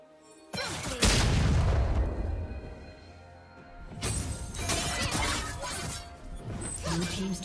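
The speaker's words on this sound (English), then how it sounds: "Blue team's turret has been destroyed." A turret in League of Legends crumbles with a sharp crash and boom, followed by heavy rumbling debris and a second wave of clattering impacts, with an announcer voice over the game's effects.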